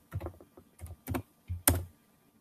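Fingers tap on a computer keyboard in short irregular bursts of close, crisp clicks, with one sharper keystroke near the end, no voices over it.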